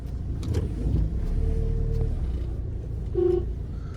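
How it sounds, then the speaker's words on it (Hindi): Car interior while driving and turning, a steady low engine and road rumble with a brief tonal whine partway through, no talking. "देखो व्लॉग करते करते गाड़ी मोड़ रहा हूँ इसकी आँख।"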